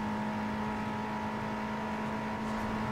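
Car engine in Need for Speed Underground 2 racing gameplay, a steady sustained drone with a strong constant hum, holding an even loudness with no speech over it.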